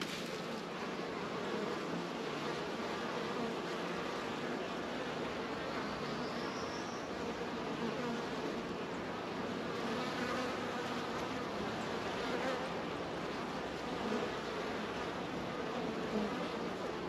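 A swarm of scout honey bees investigating a location, producing a dense continuous buzzing drone, steady and fairly close throughout with no talking.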